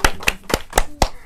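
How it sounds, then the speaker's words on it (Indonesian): Five separate sharp claps spaced about a quarter second apart, loud and close, in a talk-show studio during a segment for Jojo and his mother. "Yeay, tepuk tangan buatnya Jojo dan mamanya."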